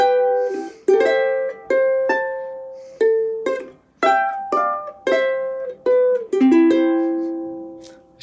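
A ukulele plays the closing bars of "Here Comes the Bride", clear plucked chords and single notes ringing out one by one at an unhurried pace, close and alone without talk.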